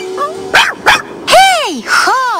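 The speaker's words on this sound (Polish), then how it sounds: "Czego się boisz, piesku?" A cartoon dog yelps and barks in a few sharp, loud, close bursts that rise and fall in pitch, then gives a longer whining bark in a snowy winter scene.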